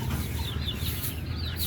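Chickens at a bird park in Trichy cluck close by in a short, busy burst of squawks and chatter over a low ambient rumble.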